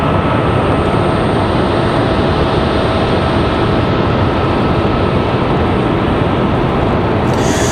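A Boeing 737-900 airliner at Raleigh-Durham airport roars with a loud, steady, broadband engine rumble that holds constant throughout, close and overwhelming, with no voices over it.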